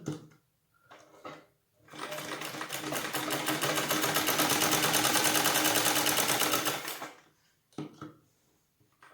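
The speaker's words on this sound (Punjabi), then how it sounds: "ਆਪਾਂ ਪੂਰੀ ਕਰ ਲੈਨੇ ਇਹਦੀ ਸਲਾਈ" A sewing machine stitches fabric, running steadily for about five seconds with a fast mechanical whir, framed by brief quiet handling noises before and after.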